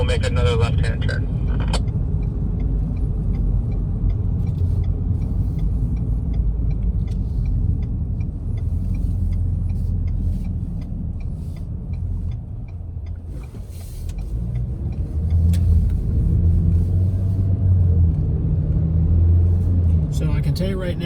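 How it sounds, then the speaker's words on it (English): A 2021 Ford Bronco Sport Badlands on a back road, a steady low engine and road rumble inside the cabin that swells near the end as it accelerates, with a voice talking throughout. "the acceleration on this Bronco Sport is very impressive"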